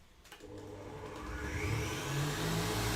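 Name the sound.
Kenwood mixer whisking egg whites at high speed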